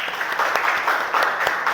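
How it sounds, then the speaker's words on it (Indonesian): Applause from a classroom or training audience, a steady wash of clapping hands filling the room, fairly loud and continuous with no talk over it. "Tepuk tangan untuk semuanya."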